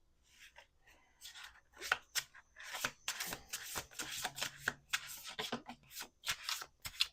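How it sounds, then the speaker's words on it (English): A deck of playing cards being shuffled at a table, with repeated crisp riffling bursts and snaps close up, quiet in level and with no talking over it. "Let's do 1 more shuffle."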